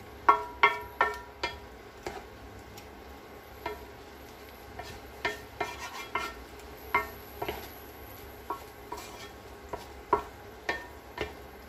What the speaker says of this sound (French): Donc là, on va tout mélanger.